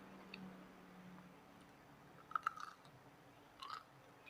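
Someone chews a crunchy Thai kraya sart snack made with sesame and peanuts, giving a few faint, close bites and crunches in a quiet room.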